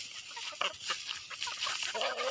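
Free-range backyard chickens clucking and squawking as they are fed, a busy, close flock chatter that runs steadily for a couple of seconds.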